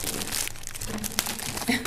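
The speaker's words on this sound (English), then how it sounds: "It's a plastic bag." A plastic bag crinkles and rustles continuously as it is opened at a city council meeting, close by and moderately loud with a few sharper crackles.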